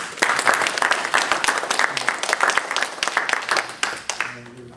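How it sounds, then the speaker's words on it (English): Sustained applause from an audience at a 9/11 ceremony in Kansas City honoring veterans, dense steady clapping throughout that tapers off near the end. "So I think that deserves a round of applause."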